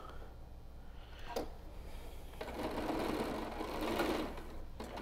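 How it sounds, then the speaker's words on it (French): A sewing machine topstitches a fabric face mask with a steady mechanical whir that grows louder midway, running alone with brief pauses between bursts. "je vais commencer par faire sur les côtés une surpiqûre à 1 cm de chaque côté"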